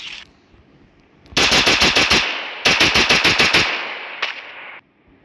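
Two long bursts of rapid automatic fire from a UMP submachine gun in the mobile shooter Free Fire, loud and close, each a quick string of sharp cracks, followed by a brief single shot and a fading tail.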